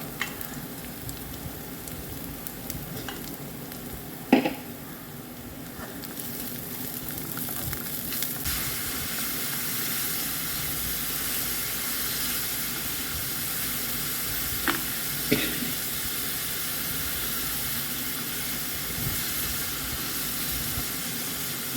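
Mothbeans sautéing in a pan with chili powder give a steady, close sizzle and hiss that runs throughout, broken by a few brief clatters of stirring.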